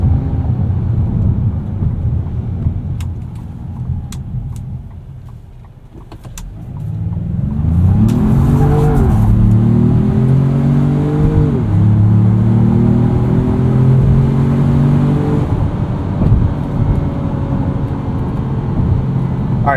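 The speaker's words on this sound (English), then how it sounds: "Definitely a more vocal set of tires on this Lobo." A 2025 Ford Maverick Lobo pickup drives with a steady road roar and loud tire noise, its engine rising and falling in pitch as it accelerates and shifts, close and continuous with no talking.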